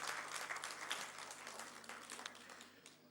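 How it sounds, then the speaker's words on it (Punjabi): An audience at a Punjabi talk event gives steady, somewhat distant applause, a dense patter of many hands that slowly tapers off. "ਸਾਰੇ ਇੱਕ ਵਾਰੀ ਤਾੜੀਆਂ ਪੀਟ ਦਿਓ"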